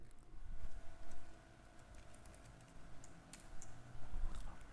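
Fingers tapping a computer keyboard while entering spreadsheet formulas, a steady patter of light keystroke clicks, close and soft, over a faint background hum.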